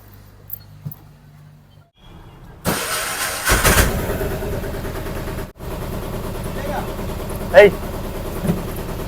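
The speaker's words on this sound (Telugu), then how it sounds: "ఇప్పుడు బండి ఒకసారి మనం స్టార్ట్ చేసి ట్రైలే చూద్దాం" A motorbike engine cranks and catches, then settles into a steady running rumble close by, with a short louder burst of revving near the end.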